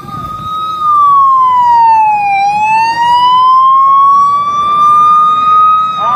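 A fire brigade vehicle's siren blares loud and close during a police mock riot drill in Achalpur, one long wailing tone that falls, then slowly climbs again over six seconds with no talk over it.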